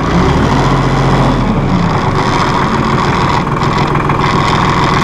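A 2005 New Holland TC30 compact tractor engine idling, a loud, steady low rumble close by that continues unbroken without speech.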